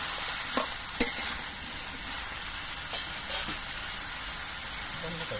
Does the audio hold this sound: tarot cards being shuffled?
no